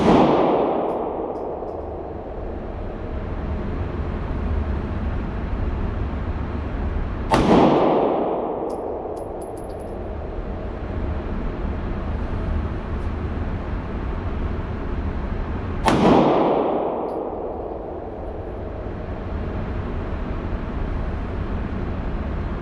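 Three loud handgun shots at a firing range, spaced several seconds apart, each a sharp crack followed by a long echoing decay, with no talking.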